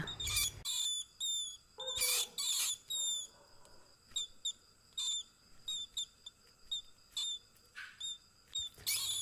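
A rat gives rapid, high-pitched squeaks in short bursts and chirps, separated by quiet gaps, faint against a near-silent background.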